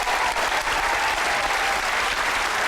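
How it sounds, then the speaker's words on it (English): Studio audience at a magic game show bursts into steady, loud applause for a couple, dense clapping filling the whole moment without letup. "Give them a round of applause."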